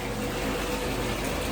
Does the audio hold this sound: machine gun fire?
no